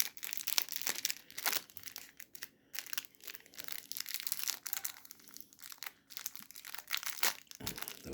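A crinkly plastic snack bag of chili-and-lime flavored Toys snacks is crushed and crinkled while someone tries to open it. The rustling is continuous and close, with sharper crackles and crunches scattered throughout.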